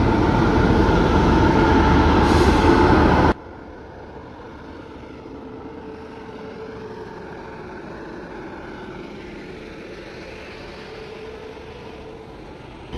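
A WAP-7 electric locomotive hauling the SMBT Duronto Express stands at a station, a loud steady rumble that abruptly drops to a quieter, even hum.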